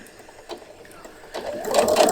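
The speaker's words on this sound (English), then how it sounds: "I'll do a stitch forward and then just a little reverse stitch back, and that'll just strengthen that bottom edge." Sewing machine stitching fabric, stitching forward then a short reverse stitch on a drawstring gift bag, a soft mechanical whir that starts quietly and grows louder toward the end.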